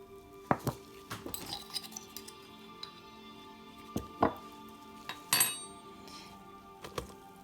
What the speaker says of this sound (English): you want to add the flour slowly, so stir it each time you add a new cup.